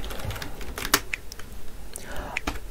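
Computer keyboard typing while writing React JavaScript code, a brief patter of light key clicks, close and moderately quiet over faint room noise.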